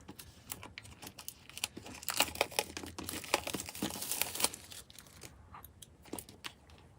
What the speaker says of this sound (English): So this is the external packaging that the device comes in. Let's open it up and see what you get inside.